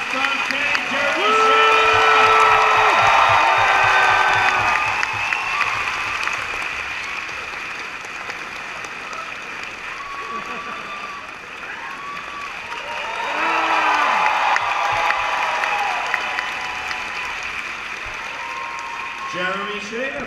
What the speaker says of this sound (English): Folks, big round of applause from Kenny Jerry.